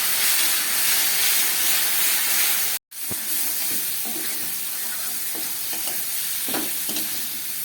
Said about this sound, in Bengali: এবার মশলা ধোয়ার এই জলটা আমি দিয়ে দিচ্ছি। এই জলটা দিয়ে আবার কষাবো।